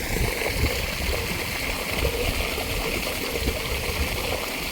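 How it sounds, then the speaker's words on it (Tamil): Steady rushing of water flowing through a rose garden in Jabal Akhdar, Oman, a continuous broadband stream sound with gurgling texture, fairly close and constant throughout. "தண்ணி பாஞ்சிகிட்ருக்குது"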